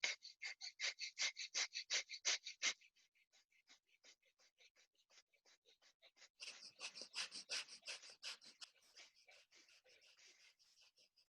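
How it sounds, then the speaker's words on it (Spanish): Rapid, forceful breaths in and out during a breathing exercise, a quick rhythmic run of loud noisy huffs that thins out, then picks up again with several people panting together close by. "Inspiren y exhalen lo más rápido y fuerte que cada uno consiga."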